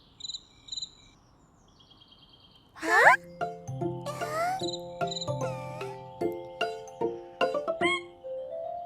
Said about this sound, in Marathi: अरे रातकिडा.